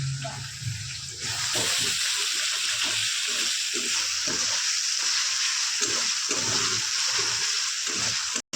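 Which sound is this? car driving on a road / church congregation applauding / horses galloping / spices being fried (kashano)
spices being fried (kashano)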